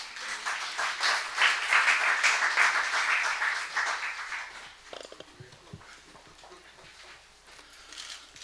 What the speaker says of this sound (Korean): 큰 박수로 환영하여 주십시오.